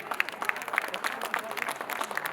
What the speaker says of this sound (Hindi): जोरदार तालियां भी बजनी चाहिए।